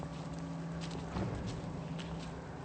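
Horses walk along a rough bush trail, their hooves giving a soft, steady clip-clop of footfalls, fairly quiet and close, with low rustling behind.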